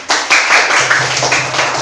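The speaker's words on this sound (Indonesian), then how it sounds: "Tepuk tangan untuk kita semua" Primary schoolchildren in a classroom break into a short, dense burst of clapping that stays close and lively for under two seconds, with a few voices mixed in.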